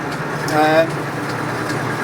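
A Massey Ferguson MF 590 tractor engine, with a splitter gearbox, runs at a steady low idle hum beneath someone talking, with a brief swell in the middle.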